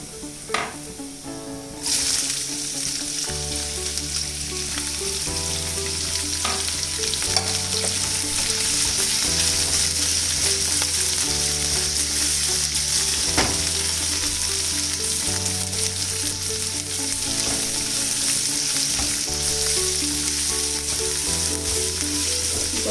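Beans and carrots fry with browned garlic in a pan, making a steady loud sizzle with occasional stirring scrapes, all under continuous background music and no talking.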